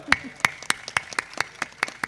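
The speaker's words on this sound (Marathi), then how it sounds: "एकदा सर्वांनी स्वतःसाठी जोरदार टाळ्या वाजवा." An audience at a stage performance claps in a steady, rhythmic beat, about eight loud, evenly spaced claps close to the microphone.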